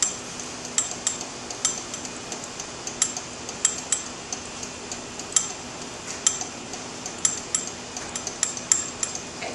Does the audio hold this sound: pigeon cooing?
no